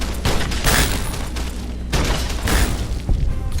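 Heavy gunshots in Fallout: New Vegas, a few loud booming blasts in quick succession with dense crashing impact noise between them, up close, no talking.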